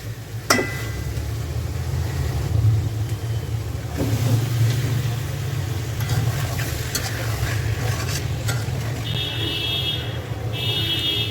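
Fish and eggplant fry in a pan with a steady, low sizzle and occasional stirring scrapes. A short electronic beeping comes in near the end.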